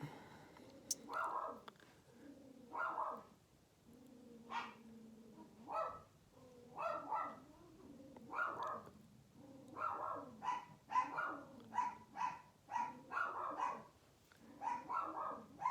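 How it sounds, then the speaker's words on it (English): Dogs bark repeatedly in irregular bursts, some yips among deeper barks, fairly faint as if from another room. "Okay, everybody in the house is barking now."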